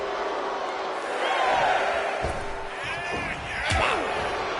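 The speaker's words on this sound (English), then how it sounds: "And Nia is revving this crowd up." Arena crowd noise rumbles steadily in a WWE 2K25 wrestling video game match as a wrestler heads back to the ring, with swelling cheers, a few sharp slams and thuds, and commentary-like voices layered over the din.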